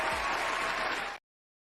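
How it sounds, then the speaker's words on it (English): A brief round of applause for a guest plays steadily at a moderate level for just over a second, then stops abruptly into silence. "Give him a round of applause."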